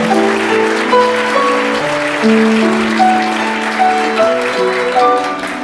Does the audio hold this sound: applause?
yes